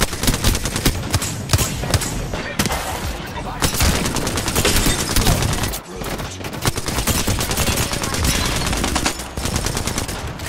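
Dense, sustained video-game gunfire with rapid automatic bursts and explosive hits rolls on almost without pause, loud and close, with brief dips, in a looter-shooter style battle.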